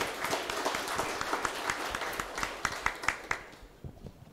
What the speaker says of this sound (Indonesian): Tepuk tangan untuk para wisudawan.